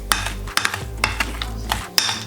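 Margarine and sugar mixed in a bowl for cake batter, a spoon knocking and scraping against the bowl in quick irregular clinks, close and fairly loud.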